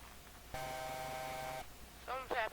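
A steady electronic alarm tone with stacked harmonics blares for about a second aboard a spaceship in a video game, then cuts off before a synthetic voice speaks.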